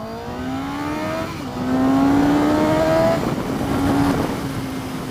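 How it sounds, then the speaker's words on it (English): A Suzuki GSX-S750 motorcycle with a 750cc inline-four engine accelerates hard. The engine note climbs steadily in pitch, drops briefly at a gear change, then climbs again, loud and close with steady wind noise throughout. "So we've got a 750cc inline 4-cylinder. Let's open her up."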